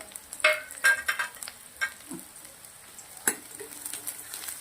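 Black pepper, cloves, cardamom, cinnamon, red and green chillies and crushed garlic fry in a pan with a soft continuous sizzle, broken by several sharp scraping stirs of a utensil, close and without speech.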